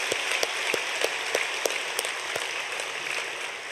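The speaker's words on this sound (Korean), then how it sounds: "박수로 한번 또 정리하겠습니다." Applause fills a church during a special early-morning prayer service, a dense, steady wash of many hands clapping with sharper individual claps standing out throughout.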